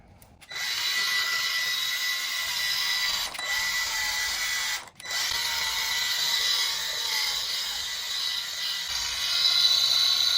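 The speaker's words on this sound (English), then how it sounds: "We got Ryobi's dual action polisher." A Ryobi dual action polisher buffs the lettering on a 2016–2018 Mercedes GLE 350. It sounds as a steady, close, high-pitched motor whine that runs almost throughout, with a brief dip partway, and no talking.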